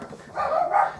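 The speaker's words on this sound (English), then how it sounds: "Dogs have just gone mad." Several dogs bark at a caravan: a short, fairly loud burst of barking that lasts about a second and rises toward the end, with no talk over it.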